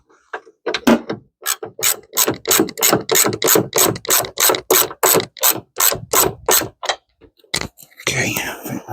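A ratchet wrench clicks in a quick, even series of loud, close strokes while the last bolt comes off a Vauxhall Vectra B GSI during a strip down, then stops with a brief rustle at the end.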